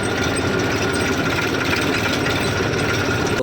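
A tractor engine runs steadily and close up after being pulled out onto the road, a continuous rough mechanical drone with no pauses and no voices.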